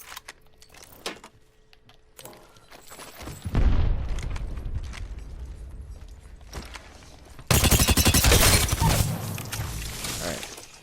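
Video game gunfire aimed at training dummies, with sharp, isolated shots early on followed by loud, dense bursts of rapid fire, separated by a quieter stretch.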